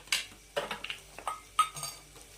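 Metal spoon scraping and knocking in a pot while turiche usal, a pigeon pea curry, is mixed with salt: a handful of separate clinks and scrapes, close and fairly quiet, with short gaps between them.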